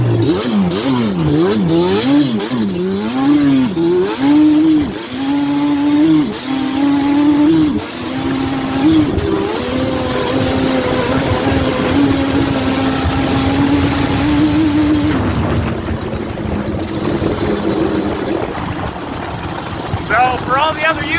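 A Yamaha Banshee two-stroke engine, close and loud, revving up and down through repeated rises before holding a high, steady scream and then settling, while someone talks over it.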